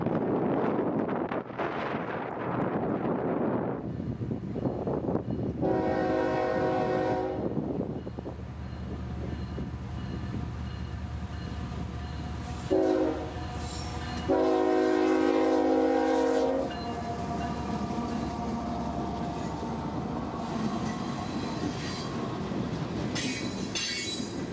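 A northbound CSX freight train rolls past at Palmetto with a steady rumble of rail cars and squealing wheels, broken by loud horn blasts, one short and then a longer one, with no talking.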